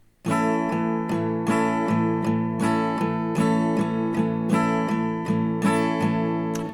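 Acoustic guitar strummed in a steady, even pattern of down and up strokes, bright chords ringing continuously for several bars, played alone and close; the strumming pattern for a song.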